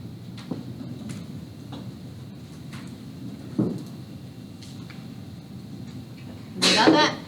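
A short, sharp sneeze bursts out near the end after a few quiet ticks and a soft thump in a quiet room.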